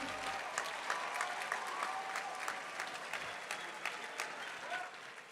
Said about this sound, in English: And now, one more round of applause for all the advisors out there.